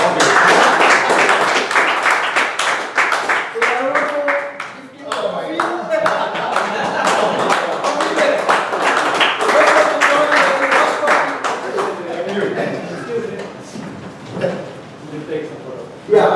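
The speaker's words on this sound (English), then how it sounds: "Give a big round of applause." Meeting attendees clap for a member called up front, a long run of fairly close, crisp hand claps with talk and voices mixed through it, easing at moments before a final burst.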